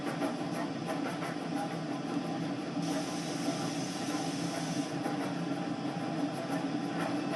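The Flying Scotsman steam locomotive running between Penzance and St Austell, heard from on board as a steady, faint rumble and hiss of the moving train with no talk.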